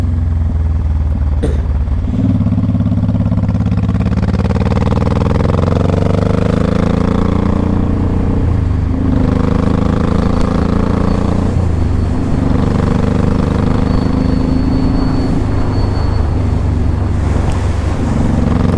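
A 2005 Honda Shadow Saber 1100 motorcycle ridden on the road, its engine droning steadily and loudly, rising in pitch as it accelerates through several gear changes, with wind noise throughout.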